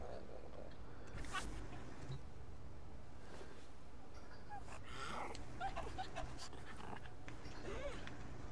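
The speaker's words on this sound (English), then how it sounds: "See, my little dog here, everybody, I named him Behind the Wall" A small pet dog pants in quick, steady, breathy huffs, close by, over a constant low background hiss.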